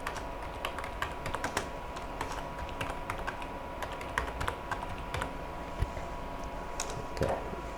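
A name is typed on a computer keyboard as quick, light key taps in an irregular run, fairly close and soft, over a faint room hum.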